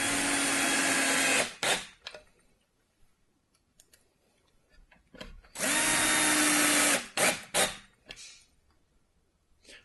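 A power drill drives screws into wood while a quick-assembly kit is put together: two long loud whirring bursts, each followed by short spurts, with quiet handling noises between them and no talk.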